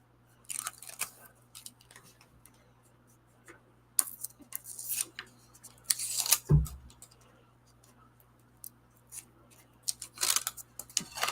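Sharp scissors trim a thin strip off the bottom of a piece of cardstock for a handmade card, giving a few quiet, close snips and crisp cuts spread out among brief handling rustles over a faint steady hum.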